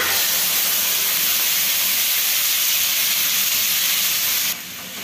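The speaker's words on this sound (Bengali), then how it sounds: "তো এখন আমি বাটাটা দিয়ে দিচ্ছি" Thankuni leaf paste hits hot mustard oil where a dried chilli has been fried, giving a loud, steady hissing sizzle that drops off sharply right at the end.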